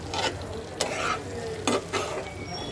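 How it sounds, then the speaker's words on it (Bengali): Fried potatoes are stir-fried in oil in a pan, a continuous sizzle under a few quick scraping strokes and clatters of the spatula, close up, with nobody speaking. "এখন আমি ভেজে রাখা আলুগুলো দিয়ে একটু কষাবো।"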